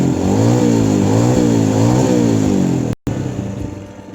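A 2020 Honda Beat scooter engine revs loudly and close, rising and falling in pitch over several seconds before cutting off abruptly, then idling briefly; no talk is heard.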